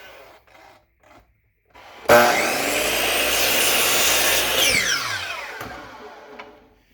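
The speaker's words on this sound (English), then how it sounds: "bring my blade down right onto the other side of that mark, and make my cut." A power saw cuts through a wooden pen blank for woodturning. The blade spins up, bites into the wood with a sustained, loud grinding whine for a few seconds, then winds down as the cut finishes.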